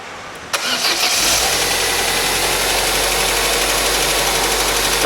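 An Opel Astra engine cranks and catches after a timing belt job, then settles into a steady, loud idle with a faint ticking knock running underneath.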